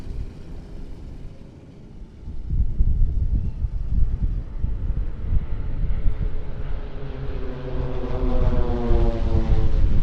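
Propeller aircraft of the Swiss PC-7 Team fly in airshow formation, a steady droning engine roar that swells louder and closer, with a rising whine and fluttering tone as the planes pass overhead.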